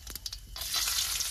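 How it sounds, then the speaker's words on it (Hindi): Cumin seeds dropped into hot oil for egg bhurji, a few soft taps and then a sudden, sustained loud sizzle that crackles close up. "ये जीरा गया है इसमें"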